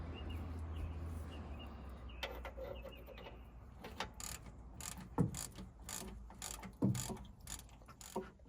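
A socket wrench ratchets on a Detroit Diesel 671 engine with excessive crankshaft end play, giving rapid clicking runs and a few sharp metallic knocks over a steady low background hum, fairly faint and close.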